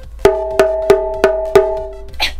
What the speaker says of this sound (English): The shime daiko sounds like this.